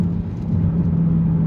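A Mercedes C63 Black Series accelerating, its engine giving a steady, close rumbling drone with gearbox whir that builds gently over a brief stretch, without talk.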